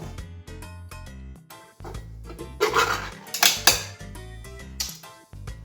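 A spoon scrapes and clinks against a bowl while cake batter is remixed with peach syrup, irregular clattering strokes, some louder knocks, close up and without talk.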